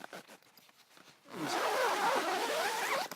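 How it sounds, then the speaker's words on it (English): The window curtain zip on a Kampa Hayling 6 Air Pro tent is drawn closed in one smooth, close, rasping pull lasting a couple of seconds, after some soft handling noises. "So it means you can quite happily just zip up"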